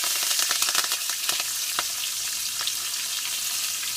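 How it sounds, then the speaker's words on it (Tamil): Urad dal, mustard seeds and fresh curry leaves sizzle loudly in hot oil for an egg curry, a dense continuous crackle with a few sharper pops early on and no talking. "உளுந்தம்பருப்பு நல்லா பொரிஞ்சிருச்சு இப்போ கருவேப்பிலை போட்டோம்"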